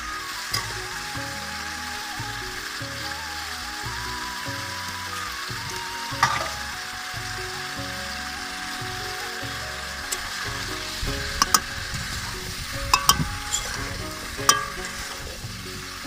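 Potatoes being sautéed and stirred in a pan, a steady low sizzle running throughout with scattered scraping clicks and taps of the spatula, growing busier toward the end.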